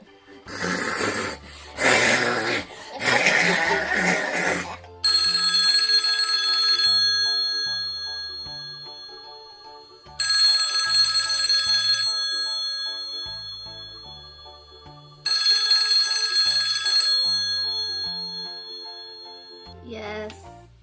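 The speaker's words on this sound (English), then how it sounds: "I got my cell phone, and I'm ready to call it Barbie" A cell phone's melodic ringtone plays in three repeated bursts of about two seconds each, loud and close, after a few seconds of snoring-like noise at the start.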